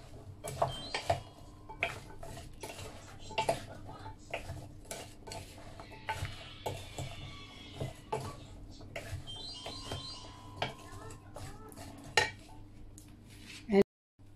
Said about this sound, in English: Mix together.